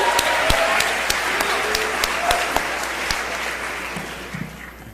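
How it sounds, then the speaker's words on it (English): Audience applauding a DJ on turntables at a 2006 hip-hop symposium at Princeton, a steady wash of clapping from a crowd that holds for the whole stretch with sharp individual claps popping out, fading slightly toward the end. "Let's give him a round of applause."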